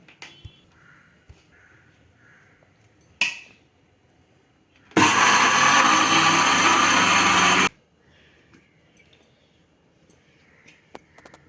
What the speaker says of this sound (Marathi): आपण मिक्सरमध्ये वाटून घेऊया।